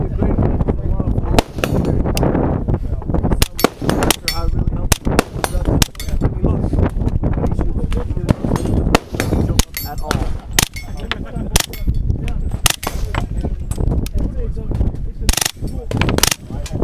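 Suppressed KRISS gunshots at an outdoor shooting range, a steady run of sharp muffled cracks repeating throughout, with people talking between and over the shots.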